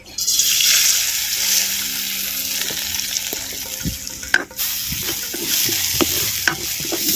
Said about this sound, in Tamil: பாசிப்பருப்பை நெய்யில் வறுத்துக்கிட்டுருவோம்